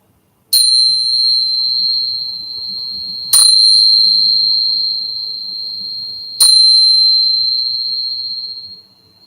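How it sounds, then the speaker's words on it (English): A meditation bell struck three times to close a yoga session, each clear high ring sustaining and slowly fading before the next strike, loud and alone in a quiet room. "Now in a few moments I'm going to ring a bell, so to mark the end of the meditation."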